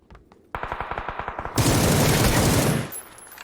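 Automatic gunfire in the PUBG battle royale game: a rapid burst of evenly spaced shots, then a denser, louder overlapping fusillade that cuts off abruptly, close and sharp.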